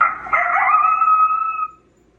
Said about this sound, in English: This is the electronic device that Pat and Dave bought for me to help me draw in the coyotes.